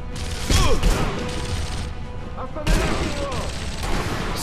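Gunfire in the World War II sniper game Sniper Elite V2: two sharp booming shots about two seconds apart, each with a ringing tail, over steady in-game background noise.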